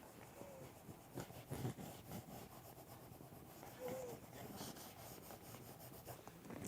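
Graphite pencil strokes scratch and rub on paper in quiet, irregular bursts, close and soft, with no talking.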